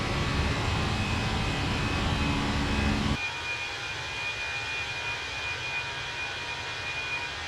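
Steady jet engine roar from a Fenix A320 climbing with flaps retracting in Microsoft Flight Simulator 2024, a loud broadband rush that suddenly drops to a quieter, thinner cabin-like hum with a faint high whine.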